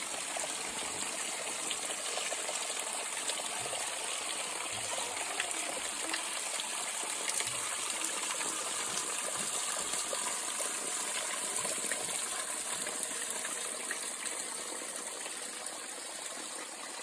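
Water flowing at a trail water source in the forest, a steady broadband rush and trickle that stays even and moderately faint throughout, with no talk.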